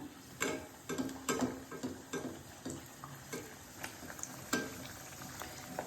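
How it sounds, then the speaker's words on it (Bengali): Paratha fries in a pan with a soft, quiet sizzle, punctuated by light scraping and clinking of a utensil against the pan at an uneven rhythm. "এইবার দেখো পরোটাটা ভাজবো"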